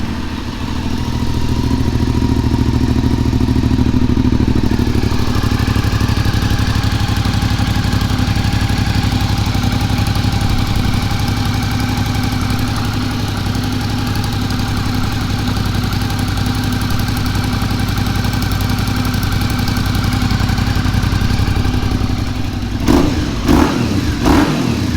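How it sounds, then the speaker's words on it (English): A Suzuki V-Strom motorcycle engine with a modified Delkevic exhaust idles steadily and loudly for a long stretch, its low rumble holding even, then a few sharp blips of revving near the end. "So let's fire this thing up, make sure it doesn't sound any different."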